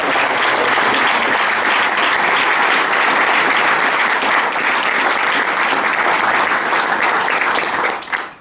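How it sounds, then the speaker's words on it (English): Audience at a university spring band concert applauding the band members, a dense, steady wash of many hands clapping at close range that continues for several seconds before tapering off at the end. "we are all going to give them a massive round of applause now"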